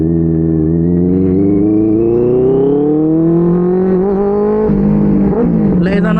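A Benelli 600i motorcycle accelerates hard in first gear, its loud engine note climbing steadily in pitch for several seconds before a brief dip and another rise, close and continuous.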